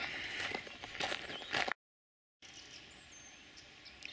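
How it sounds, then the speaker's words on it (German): Faint, distant calls and chirps of many birds at night over a quiet outdoor background, with a brief dropout of silence midway. "Hört ihr das? Diese ganzen Vögel."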